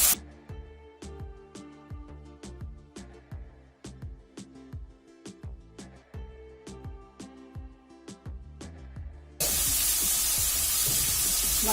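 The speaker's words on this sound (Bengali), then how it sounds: "মশলাটা কষানোর জন্য একটু গরম পানি দিয়ে দিলাম।" Hot water hits a spice paste frying in a kadai for a cow-head and potato curry, setting off a loud, steady sizzling hiss near the end, after a stretch of rhythmic percussive music.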